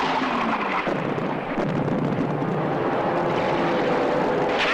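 A violent wartime aerial offensive over Sicily comes through as a dense, rumbling roar of aircraft engines. Heavy booming blasts are mixed through it, loud and continuous, with no speech.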